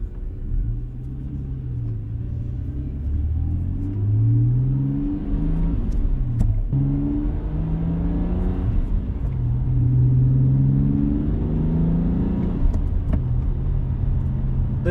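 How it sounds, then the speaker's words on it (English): A BMW E90 328i with an N52 engine and upgraded exhaust rumbles and revs as it accelerates, the pitch climbing through gears with a deep, throaty exhaust note heard from inside. "This car picks up speed really nicely."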